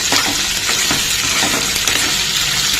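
Chopped onions fry in a pan for a sour karonda (vakkaya) curry, giving off a loud, continuous close sizzle with faint stirring scrapes and no talking.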